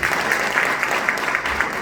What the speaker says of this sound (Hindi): तो मैं चाहूंगा एक बार जोरदार ताली।